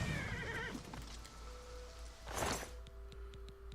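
A horse under attack in the video game Oblivion Remastered whinnies once in a rising burst amid game ambience, followed by steady tonal hums and faint rhythmic clicking.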